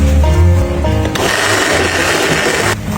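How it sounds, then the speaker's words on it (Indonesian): A kitchen blender grinds coriander, lime leaves and water with a loud, steady whir. It kicks in about a second in after a low hum and cuts off just before the end. "Blender ini ya, daun jeruk ya."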